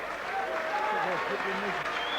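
Applause from a boxing crowd at an EBU title fight, steady clapping running underneath someone talking over it.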